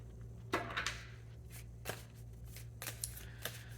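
Tarot cards are shuffled and drawn in a quiet room. Several short, crisp riffling bursts and flicks come close up and soft over a low steady hum, with no talking.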